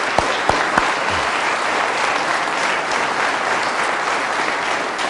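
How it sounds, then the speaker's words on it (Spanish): A church congregation giving loud, sustained applause, a dense, even wash of clapping from many hands that fills the whole stretch, with a few sharp knocks at the start. "Fuerte el aplauso al Señor."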